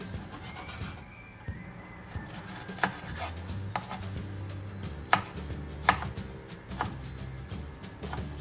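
Black garlic being pressed and chopped with a knife on a cutting board, a series of soft irregular knocks and taps over a low background hum.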